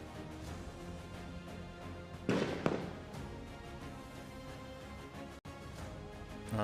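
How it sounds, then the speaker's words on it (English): A single sharp gunshot from a Brazilian sniper team at a SWAT challenge cracks out at moderate distance over steady outdoor background noise, with a fainter report shortly after. "There goes the first shot from one of the Brazilian snipers."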